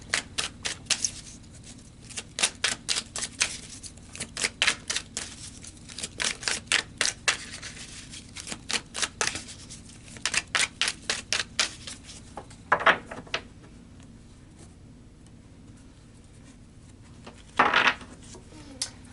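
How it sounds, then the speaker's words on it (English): Tarot cards are shuffled and pulled in close, quiet bursts of rapid riffling clicks, with a couple of brief louder flicks and slaps of cards being drawn. "So let's pull some more cards"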